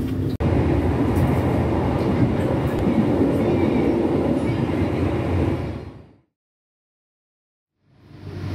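Passenger train KA Singasari pulling into Lempuyangan station in Yogyakarta at night: a loud, steady rolling rumble heard from the cabin for several seconds, then a sudden drop to silence before the noise returns.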